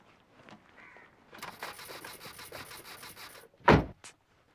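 A car engine cranks but fails to catch, likely from a weak battery; a faint grinding starter whir runs for a couple of seconds, followed by a sharp loud knock and a brief clunk, otherwise quiet.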